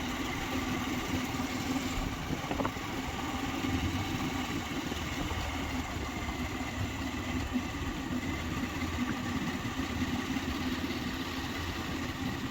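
A motorcycle engine idles with a steady low rumble throughout, close by in a village setting, with no talking.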